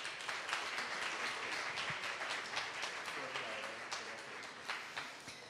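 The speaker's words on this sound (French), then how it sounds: "Et je vais accueillir avec une bonne main d'applaudissements, s'il vous plaît, notre premier présentateur, Simon Coulombe" Audience applause greeting a presenter at a French-language lecture, a soft, steady patter of many hands clapping at some distance, with faint voices underneath.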